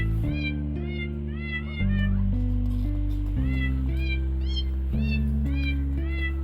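A cat meows repeatedly in short rising calls over a steady droning musical background, the meows fairly close and clear.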